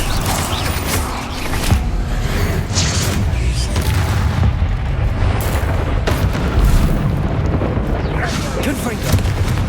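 Repeated Confringo fire-blast spells from the Hogwarts Legacy video game boom in loud, dense bursts over rumbling battle noise, with a voice talking throughout.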